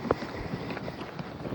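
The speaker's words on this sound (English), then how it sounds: "It's really windy, making it really cold." Wind gusts at Fort Pickens, Florida rumble across the microphone as a continuous, rough noise with a few small knocks, close and fairly loud.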